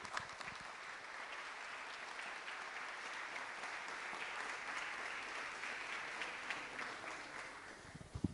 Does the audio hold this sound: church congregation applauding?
yes